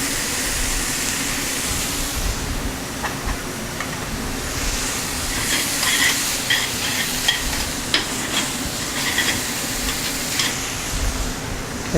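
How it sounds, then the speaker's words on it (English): Chanterelle mushrooms and sliced garlic fry in a pan with a continuous moderate sizzle, punctuated by scattered crackles and a few scraping stirs, with no speech. "Get a little bit of a roast on our chanterelles."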